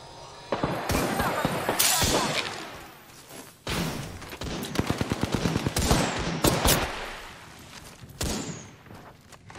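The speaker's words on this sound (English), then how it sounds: "Taking fire, brothers." Bursts of automatic gunfire in the Apex Legends video game, rapid close shots in several volleys with short pauses, along with crashes and impacts over busy game noise.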